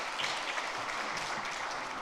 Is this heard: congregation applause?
yes